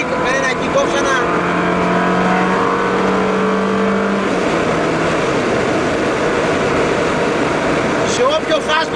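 A Ferrari 360 Modena's engine revs loudly from inside the car as the throttle is held through a downshift. The tone shifts partway through, and the drone stays steady under talk.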